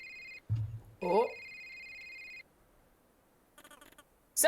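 A cell phone rings in a video game: electronic tones in short bursts separated by brief pauses and quiet gaps, with another ring starting at the end.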